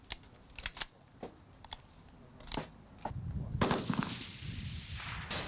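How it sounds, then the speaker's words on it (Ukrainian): Small arms fire on a firing range during reservist shooting training: several sharp, distant shots scattered at irregular intervals over low background rumble. "Також резервісти удосконалювали навики стрільби зі стрілецької зброї."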